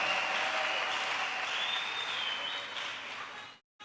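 A church congregation claps loudly and steadily in applause to acclaim the Lord, a dense, sustained wash of hands that fades slightly before cutting off abruptly near the end.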